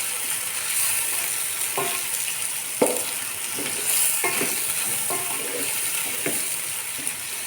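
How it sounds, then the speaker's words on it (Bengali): Sliced onions for kachchi biryani fry slowly in oil over low heat, giving a steady soft sizzle with a few scraping stirs and clinks of a spatula against the pan. "তো এটা আমরা এখন পেঁয়াজ বেরেস্তা করে নেব আস্তে জালে।"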